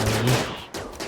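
Ship turrets fire in the RimWorld RiftWorld mod, a dense, loud burst of rapid gunfire that crackles over a low hum and keeps going for the whole moment.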